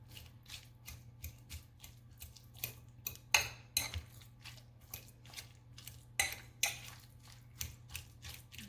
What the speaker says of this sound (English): we're just going to mix all that together. Just blend that all together there.